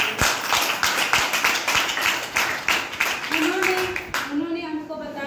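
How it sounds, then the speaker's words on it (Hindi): Audience clapping at a DXN gathering in Gopiganj, a rhythmic patter of hands that fades out near the end as voices and speech rise over it. "हम चाहते हैं उनके लिए जोरदार ताली।"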